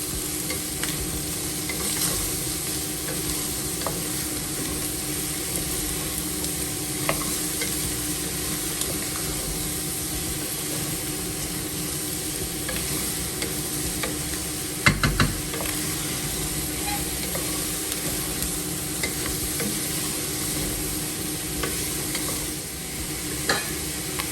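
Bicol Express ingredients sautéing in a pan, onions cooking in their own rendered oil with no added oil; a steady, continuous sizzle and frying hiss with occasional stirring clicks, close and alone throughout.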